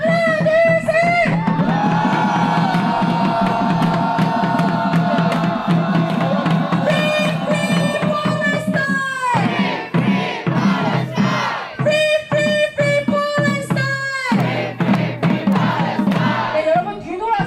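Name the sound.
protest crowd shouting in anger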